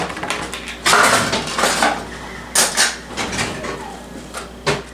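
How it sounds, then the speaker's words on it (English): A knife spreading butter over slices of bread, a series of scraping strokes and clinks of the blade against a plate, close and fairly loud, with no speech. "So we are going to butter both of these slices of bread."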